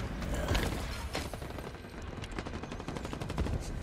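Rapid automatic gunfire in a Halo video game, a steady loud stream of cracking shots with metallic mechanical clatter running unbroken for about four seconds.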